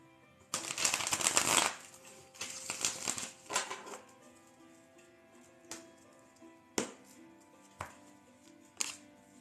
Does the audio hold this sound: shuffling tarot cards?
yes